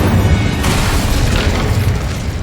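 An Incendio fire spell blast in the wizarding game Hogwarts Legacy: a dense, continuous booming roar with a burst of fiery crackle partway through, loud and close, with no talk over it.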